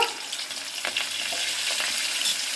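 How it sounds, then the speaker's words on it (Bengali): Potatoes frying in hot oil for a chicken curry, giving a steady close hiss with faint scraping of stirring running throughout. "আলুগুলো দিয়ে একটু ভালো করে ভেজে নিতে হবে"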